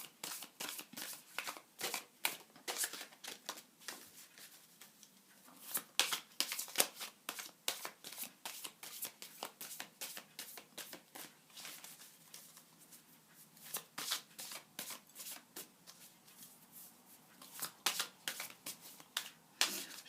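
A deck of tarot cards is shuffled by hand in quick, soft riffling bursts that repeat steadily for twenty seconds, close and fairly quiet, with no talking.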